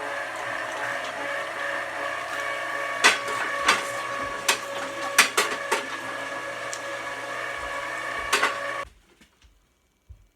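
An electric meat grinder whirs steadily while grinding beef and pork for Polish sausage, its motor drone broken by irregular knocks and clunks as meat feeds through, then cutting off abruptly near the end.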